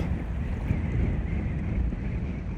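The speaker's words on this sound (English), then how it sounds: "The wind was showing no signs of letting up." Strong wind blasts across the ocean off Ocean City, New Jersey, during Hurricane Erin, a loud, unbroken roar buffeting the microphone, with surf noise mixed in and no voices.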